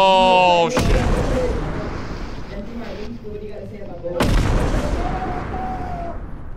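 Bomb blasts in the horror video game Content Warning: a loud explosive boom cuts off a tonal sound, rumbles and decays, then a second heavy blast hits a few seconds later and lingers with debris-like noise.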